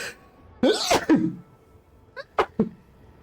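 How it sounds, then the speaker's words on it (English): A couple of sharp, explosive bursts like a stifled sneeze, followed moments later by two shorter, quieter puffs, close to the mic with no talking. "I think I got a sneeze as well."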